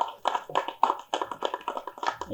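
Audience at a Thookudurai film press meet claps in a brisk, uneven run of close, sharp hand claps that carries on steadily for a couple of seconds.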